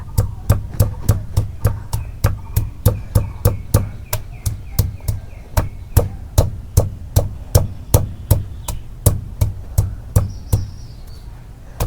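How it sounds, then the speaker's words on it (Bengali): Ginger being crushed with a pestle for a piaju recipe, struck in a steady, even series of sharp, close thuds, roughly three per second throughout, with no other sound competing. "প্রথমে আদা গুনে ছেইচে নেই।"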